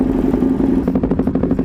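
Ducati 848 Evo motorcycle with an undertail exhaust, a close, loud, rapid rumbling burble that pulses quickly as the engine idles and blips, with no talk.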